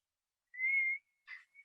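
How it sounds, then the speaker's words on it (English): A person whistles a single sustained tone for about half a second, then, after a pause, gives a shorter breathier note and a faint brief final whistle, all close and alone with no talk. "Can you whistle?"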